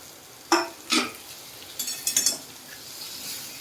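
Potato goes into a pan of ginger, garlic and chilli and gets stirred, giving a few sharp spoon-against-pan clanks and scrapes over a quiet, faint sizzle.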